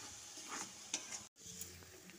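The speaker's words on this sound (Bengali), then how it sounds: "তারপর মশলাটা ভালো করে কষিয়ে নিচ্ছি।" Ground cumin, coriander and turmeric are stirred and fried in a pan, a soft steady sizzle with scraping stirs and a brief clink, cut by a momentary dropout, quiet throughout.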